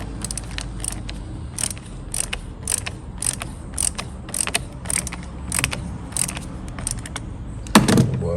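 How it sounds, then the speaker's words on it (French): A 10 mm socket on a ratchet loosens the battery terminal nut on a Peugeot 208, giving a run of quick, evenly spaced clicks close by, followed by a heavier clunk near the end. "avec ma douille de 10, je vais dévisser ça"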